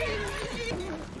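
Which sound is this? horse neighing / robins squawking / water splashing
horse neighing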